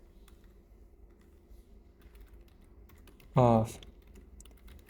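Light, irregular clicks from a computer keyboard being typed on, soft and close, with a brief spoken word cutting in near the end.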